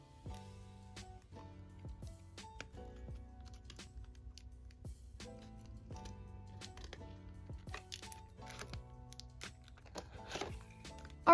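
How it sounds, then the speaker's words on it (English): Paper pieces are taped to the sides of a paper box, with quiet crinkles, tape pulls and small taps scattered irregularly across the stretch, close and soft. "Now I'm going to take all the pieces and tape them to the sides."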